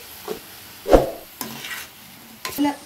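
Prawns frying in oil with turmeric going in, a low sizzle broken by several distinct stirring and clattering knocks of a spoon in the pan, close and fairly loud, no talking.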